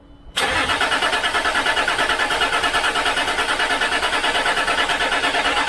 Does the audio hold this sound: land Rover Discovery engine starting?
yes